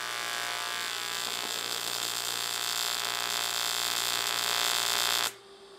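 TIG welding arc buzzing steadily while two metal plates are joined, a constant electric hum with a bright hiss that holds for about five seconds and then cuts off abruptly.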